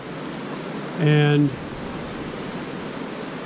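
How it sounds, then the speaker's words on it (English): Dingman's Creek and the falls at Dingman Falls in the Poconos give off a steady, even rushing of water. Someone briefly speaks over it partway through. "We're crossing right now Dingman's Creek, and the falls are up here ahead of us"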